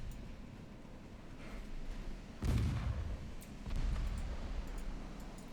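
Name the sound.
naval artillery fire in Ultimate Admiral Dreadnoughts video game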